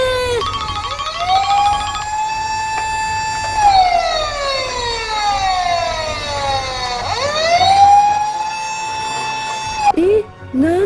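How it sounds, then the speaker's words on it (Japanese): A police car siren in a cartoon wails in rising and falling sweeps, loud and close, over background music and effects, with a brief cartoon voice near the end. "うわー、パトカーだ。"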